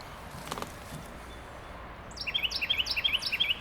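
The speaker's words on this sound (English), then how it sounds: "Do you hear this bird? Can you hear the bird?" A bird chirps repeatedly in quick, bright calls during the second half, standing out over soft outdoor ambience.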